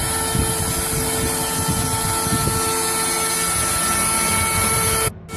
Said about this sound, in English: That's how we carve a sign, a custom sign, on our CNC machine.